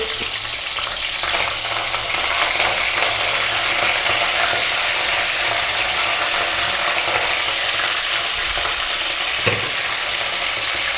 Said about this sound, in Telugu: పచ్చిమిరపకాయలు వేస్తున్నానమ్మా, కరివేపాకు,